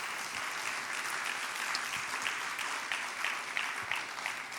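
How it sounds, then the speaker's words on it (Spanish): A church congregation applauding at a Spanish-language service, a dense, sustained clatter of many hands with slight swells, loud and continuous with no speech over it. "dale un fuerte aplauso a nuestro Dios"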